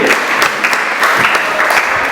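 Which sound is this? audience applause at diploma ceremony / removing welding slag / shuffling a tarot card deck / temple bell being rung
audience applause at diploma ceremony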